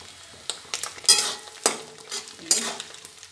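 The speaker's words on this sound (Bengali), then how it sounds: "এবার নারকেল কোড়াগুলো ভেজে নিচ্ছি, নারকেল কোড়াগুলো না, নারকেলের কুচিগুলো ভেজে নিচ্ছি।" Chopped coconut pieces fry in hot oil in a pan for a Bengali banana-flower dish. A steady, soft sizzle is broken by several sharp scrapes and clinks as a spatula stirs, and no one talks.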